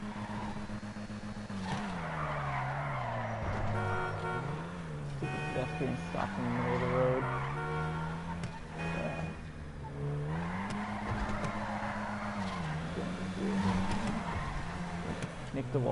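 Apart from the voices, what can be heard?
car drifting in a parking lot in the video game GTA Online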